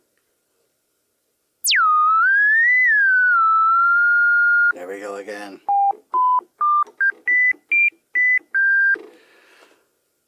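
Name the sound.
Polybrute synthesizer ladder filter self-oscillating pure sine wave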